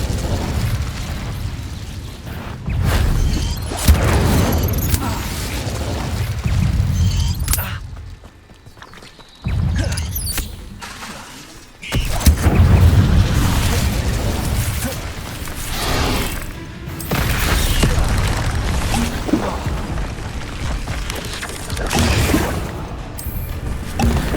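Incendio fire spell casts in the Hogwarts Legacy video game, repeated fiery bursts and crackling blasts over a continuous roaring combat soundscape, with a brief lull near the middle.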